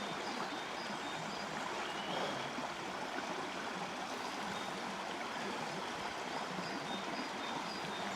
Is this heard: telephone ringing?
no